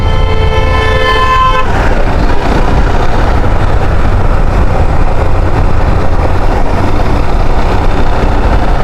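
Motorbike ride on a hill road in Bandarban, with a steady, loud rumble of engine and wind. A vehicle horn toots for about a second and a half at the start before the road noise carries on alone.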